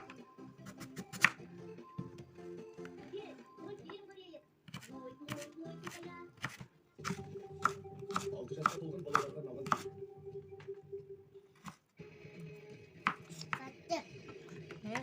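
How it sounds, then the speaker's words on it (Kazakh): Onions chopped with a knife for Kazakh plov: bursts of sharp, quick cutting taps on a board with short pauses between runs, close by, while someone talks over them. "Міне осылай пиязымызды турап аламыз."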